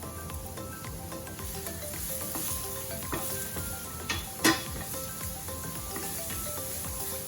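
Diced onion frying in olive oil in a pan over medium heat, giving a steady close sizzle with light stirring scrapes and one sharp clink partway through.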